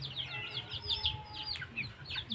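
Backyard chickens in a small flock, clucking and chirping faintly at a distance, with repeated short calls over a soft outdoor background.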